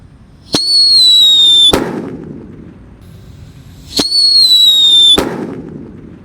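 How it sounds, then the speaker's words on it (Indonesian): Two firecrackers set off in a hole in the ground go off one after another, each a shrill whistle sliding down in pitch that ends in a sharp, loud bang, close by with no talk. "Selanjutnya yang kita nyalakan di sini ada mercon Black Buster."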